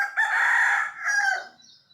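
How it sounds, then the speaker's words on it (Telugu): A rooster crows one long, loud, close cock-a-doodle-doo lasting nearly two seconds, heard in a village during a Mankalamma Bonalu festival outing on an organic farm. "చూడండి ఎంత బాగా అరుస్తుందో మా కోడి."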